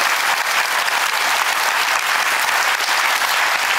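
Sustained applause from a church retreat congregation at a closing worship service, many hands clapping in a thick continuous roar that stays loud and unbroken from start to finish.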